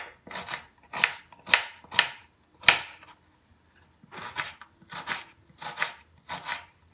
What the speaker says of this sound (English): So you have to cut the onion and finely chop it.